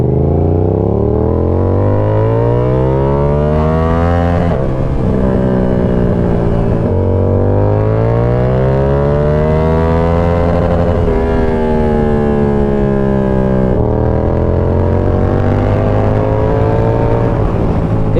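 A Yamaha R7 motorcycle fitted with an SC Project CR-T exhaust roars loudly and close, its deep harmonic engine note climbing repeatedly as it accelerates through successive gears.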